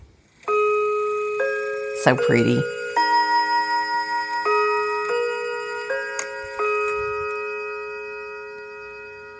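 A Westminster Hamilton mantel clock plays the Westminster chime, a sequence of clear ringing bell tones that overlap and slowly decay. A voice speaks briefly near the start.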